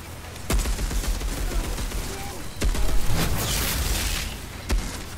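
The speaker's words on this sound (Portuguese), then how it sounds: "do nada o cara começa a tomar um zilhão de tiro, mano" Gunfire in the video game Outriders, a sustained barrage of rapid shots with a few sharper bursts standing out, loud and continuous over a busy game background.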